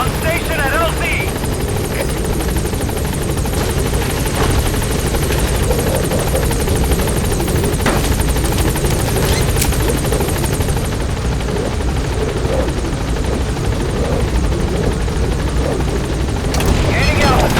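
The B-Quad support helicopter lands at a landing zone in Metal Gear Solid V: The Phantom Pain, a loud, constant rotor thrum with whine that fills the whole stretch while radio voices speak over it.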